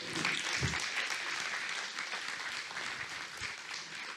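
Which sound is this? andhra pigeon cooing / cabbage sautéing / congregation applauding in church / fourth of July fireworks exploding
congregation applauding in church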